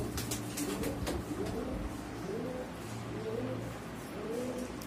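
Blue bar imported Beauty Homer pigeons cooing: repeated soft, rolling coos rise and fall at a steady pace over a busy low background hum, fairly close and moderately quiet.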